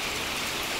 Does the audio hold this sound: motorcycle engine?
no